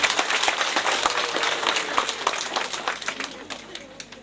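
A graduation party crowd claps to welcome the graduate, a brisk burst of many hands that starts strong and gradually thins out, with some voices mixed in.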